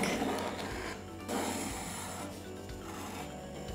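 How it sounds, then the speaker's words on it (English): A scraper drags buttercream smooth around a cake between boards, giving a close, soft rasping rub in two long strokes with no talk. "take your buttercream and just smear it from board to board. And then scrape it back."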